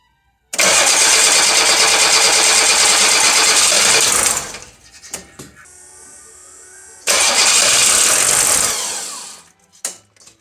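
A Volvo D24T turbo-diesel engine in a Volvo 740, on its first start attempt, cranks loudly and sputters in two long bursts of several seconds each, separated by a quieter pause and ending in a few uneven coughs.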